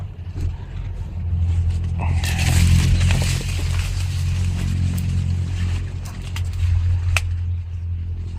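A motorcycle engine rumbles steadily and fairly close for several seconds, with a voice talking over it and rising and falling noise around it.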